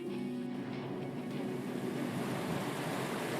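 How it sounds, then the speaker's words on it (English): Water drains out of a flooded sewer as a big metal gate rises in Final Fantasy VII Remake, a steady, even rushing wash with a low hum beneath, fairly quiet and without talk. "Hear the water go down as the gate goes up."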